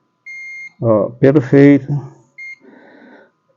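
Multimeter continuity tester gives short, steady electronic beeps while probing a capacitor on a phone circuit board, one beep before and one after a voice speaks.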